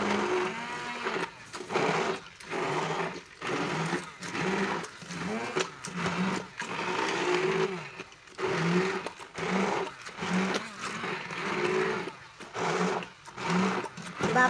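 An electric grinder whirs through a lentil and beef mixture for shami kabab, a steady loud buzzing motor that pulses and dips in short bursts throughout.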